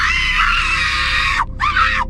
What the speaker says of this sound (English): a blood-curdling scream ripped through the silence